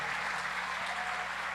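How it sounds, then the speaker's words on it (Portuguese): Audience applause at a Christian conference, a dense wash of clapping from a crowd, steady and sustained. "Eu queria que você aplaudisse essa casa, essa família espiritual."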